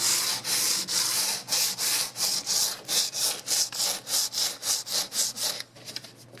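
120 grit sandpaper rubbed by hand over primer on the steel body of a square body K5 Blazer, a steady run of about twenty quick, close, rhythmic scraping strokes that stop near the end.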